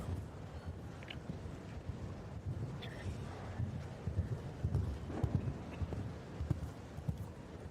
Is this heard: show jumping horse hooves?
yes